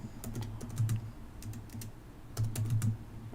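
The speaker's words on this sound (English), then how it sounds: "while I'm typing" Typing on a computer keyboard, close and fairly quiet, with bursts of rapid clicking keystrokes separated by short pauses.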